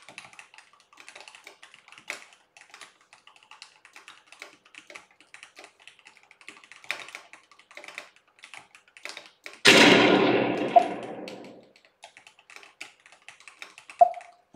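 Light keystrokes on a computer keyboard tap out a text prompt in scattered, quiet bursts across the stretch, interrupted once by a louder, longer noisy whoosh partway through.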